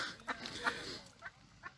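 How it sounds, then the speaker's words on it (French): A few short, close bird calls, duck- or fowl-like quacks and clucks, spaced apart over quiet background. "Je suis accompagné par les canards"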